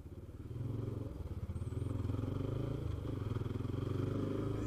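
A motorcycle idles and rumbles up close on a main street in the town centre of Tatuí, a steady low engine throb with some clatter throughout.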